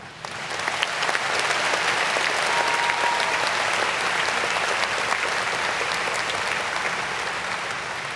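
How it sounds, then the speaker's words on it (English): A graduation audience in a high school ceremony hall applauds the senior class, a dense, sustained wash of clapping from many hands that swells after the first second and continues evenly, heard from a distance. "Join me in giving the senior class a round of applause."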